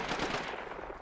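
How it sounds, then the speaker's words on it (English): A turret in the video game DeathGarden: BloodHarvest fires a rapid, continuous burst of gunfire, fairly faint and steady across about a second with no talking over it. "Ow, there's a turret."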